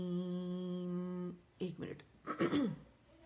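A voice hums a steady tone, then a person clears their throat with a few rough, harsh bursts close by.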